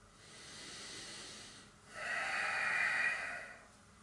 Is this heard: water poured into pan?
no